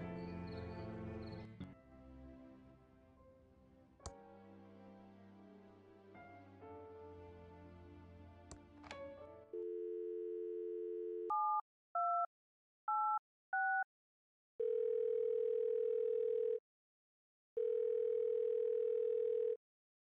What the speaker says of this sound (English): KSCUM's phone system is now rebooting.